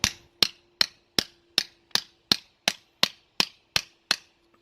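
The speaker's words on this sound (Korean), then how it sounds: "좀 두꺼운 망치로 때리셔야 돼요" Twelve sharp, ringing strikes of a thick hammer on a metal bar, bending it over a right-angled curb edge, evenly spaced about every third of a second, close and clear with nothing else heard.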